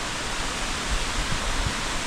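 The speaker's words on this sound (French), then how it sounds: "Et sur le chemin, j'avais repéré cette cascade, la cascade du Dard." The Cascade du Dard, an Alpine waterfall running low on water, sends out a continuous hissing rush that sounds fairly distant and even, with a few low thumps underneath.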